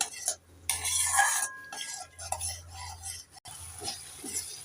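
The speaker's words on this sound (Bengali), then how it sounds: "নেড়ে চেড়ে মশলাটাকে আমি দু মিনিট ভালো করে কষে নেব" Masala being stirred and fried in a pan with a little water for cabbage kofta curry: a spoon scrapes and clinks against the pan in bursts over a soft sizzle, close and moderately loud, with no talk.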